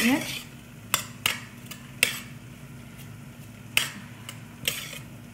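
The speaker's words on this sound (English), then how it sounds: "keep stirring the rice for another minute" A utensil stirs basmati rice in a cooking pot, scraping and knocking against the metal in several sharp clinks spaced over a low steady sizzle.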